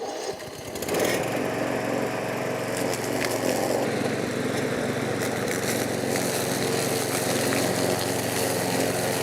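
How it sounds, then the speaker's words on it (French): A Grin lawn mower starts up and runs steadily, its engine a dense, continuous roar as it mulches a thick layer of dry leaves close by. "Maintenant, j'allume la tondeuse."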